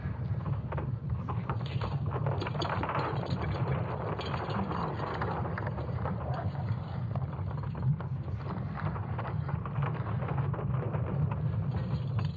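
Earth's magnetic field, sonified from ESA Swarm satellite data, comes through as a low, rumbling drone with creaking, rustling texture, continuous and eerie, with no voices.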